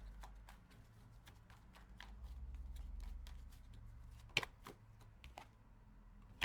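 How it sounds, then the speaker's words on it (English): Tarot cards are shuffled and drawn in a quiet room, giving soft papery riffles followed by a few sharp card snaps and taps near the end. "I want to pull one more card before I start talking"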